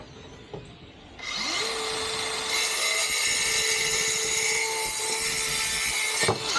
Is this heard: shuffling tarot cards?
no